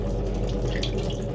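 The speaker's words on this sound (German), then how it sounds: "Da kommt Wasser." Water runs steadily from a hand-washing tap on a double-deck regional train, a close, constant hissing splash mixed with the low rumble of the moving carriage.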